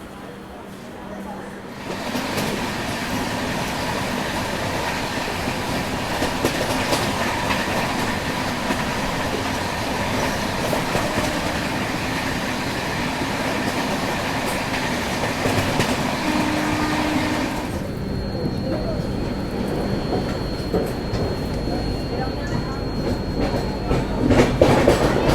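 The Avadh Assam Express runs on rails in India, heard from on board as a loud, continuous rumble with steady wheel clatter. The noise quiets somewhat toward the end.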